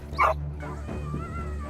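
A dog lets out a few sharp yelping barks and whimpers while fleeing a wild animal, close and brief over faint background noise.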